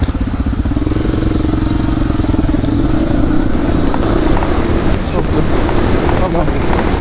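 XR trail motorcycle kick-started on a wet trail ride, its single-cylinder engine catching and running loud and close with rough throttle blips, wind buffeting the microphone and a voice talking over it.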